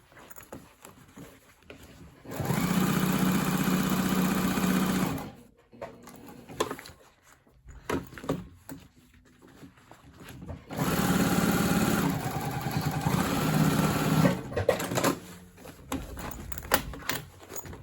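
A sewing machine stitches all the way around a tote bag pocket in two sustained runs of about three seconds each, with a quieter pause of handling between them.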